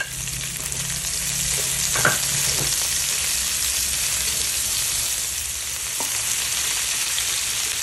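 Garlic and onion sauté in a hot pan with a loud, continuous close-up sizzle and a couple of brief utensil scrapes, no voices.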